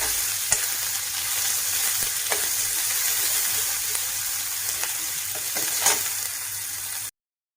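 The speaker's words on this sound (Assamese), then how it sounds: "ইয়াতে মই ৰঙালাওখিনি প্ৰথমতে ভাজি ল'ম" Pumpkin pieces frying in oil with onion, a steady close sizzle with occasional spatula clicks and stirring scrapes, no voices, ending abruptly.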